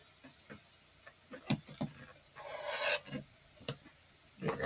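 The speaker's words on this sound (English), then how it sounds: "So now I can trim away this little bit of excess." Scissors trim excess fabric from a sewn quilt block, making soft irregular snips and rasping cuts, quiet and close, in a short scattered sequence.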